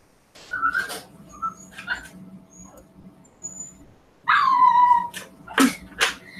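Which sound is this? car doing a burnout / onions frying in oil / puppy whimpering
puppy whimpering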